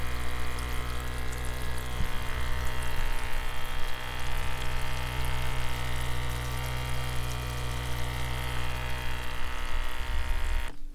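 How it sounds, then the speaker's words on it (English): A Hush two-way bubbler aerator hums steadily on battery-bank power, a continuous close motor drone with faint bubbling running unbroken for the full stretch. "We've got the hush two-way bubbler running off of our battery bank."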